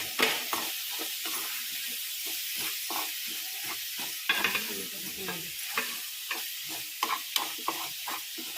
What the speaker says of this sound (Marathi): पूर्ण हलवून घ्यायचं ते।